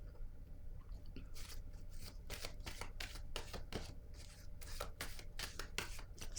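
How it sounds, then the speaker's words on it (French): Tarot cards are handled and laid onto a table, quiet close shuffling and papery flicks in a rapid irregular series without speech. "Je vais déposer une autre carte ici."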